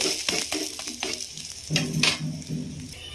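A gram flour and egg pancake fries in a pan, with soft steady sizzling broken by a few light scrapes and clinks of a spatula against the pan, fairly quiet and close.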